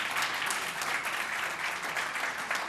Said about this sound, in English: Okay, more applause,